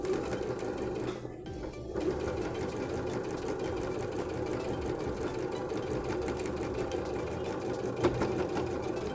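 A sewing machine stitching patchwork blocks for a placemat, a steady close mechanical whir running continuously with a short pause partway through.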